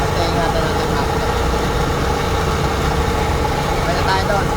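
An Isuzu Giga 2000 diesel tanker truck engine idles close by, a loud, steady, unbroken rumble that fills the whole stretch without change.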